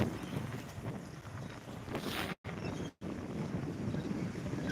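Cool wind at the Lower Manair dam buffets the microphone in a continuous rushing roar, broken by two brief dropouts.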